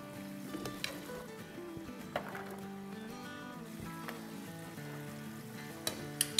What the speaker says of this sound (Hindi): स्ट्रेन करने का बेस्ट वे ये है कि हम ये बड़ी सी छन्नी लेंगे और सेम ट्रे में डाल देंगे।